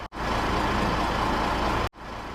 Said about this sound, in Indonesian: Aduh, truk sialan.